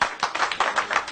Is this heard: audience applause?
yes